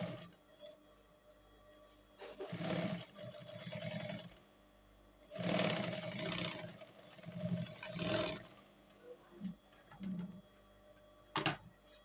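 A sewing machine top stitches a bubu placket in several short, quiet bursts of rapid mechanical whirring separated by pauses.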